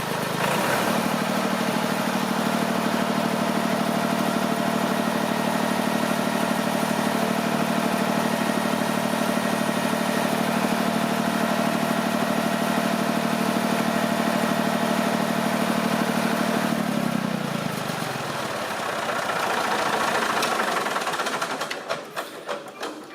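A Massey Ferguson 20 tractor engine with a power steering valve not opening properly revs and holds a steady, loud drone for a long stretch, then the pitch drops as it winds down, with clattering near the end.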